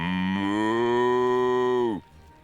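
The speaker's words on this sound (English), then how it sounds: "Moo!" A cow moos in the video game Divinity: Original Sin, one loud, sustained bellow lasting about two seconds that then cuts off abruptly.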